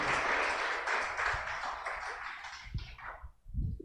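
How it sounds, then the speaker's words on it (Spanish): Church congregation applauding together, a dense sustained wash of clapping that fades out toward the end, followed by a few low thumps. "¿Le da un aplauso al Señor?"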